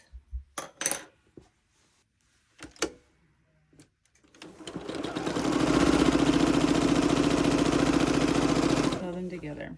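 A sewing machine stitches binding strips together in one sustained, steady whirring run of about three seconds at close range, preceded by a few handling clicks and taps.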